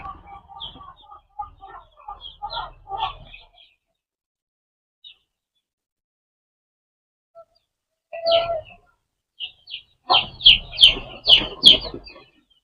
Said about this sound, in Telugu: 2 కోడి పిల్లలు అయితే వచ్చి తింటా ఉన్నాయి